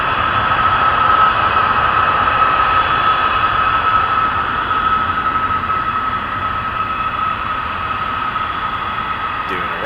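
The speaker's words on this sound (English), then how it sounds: "Doing a run-up." A FedEx MD-11 holds on runway 05 at Toronto Pearson during an engine run-up, a steady loud roar and whine that stays constant throughout with no speech.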